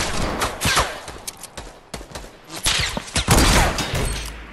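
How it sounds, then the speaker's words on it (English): Gunfire from a Fortnite match, several sharp broadband shots and bursts scattered across the stretch amid other game noise, fairly loud, with no talk over it. "I sniped one"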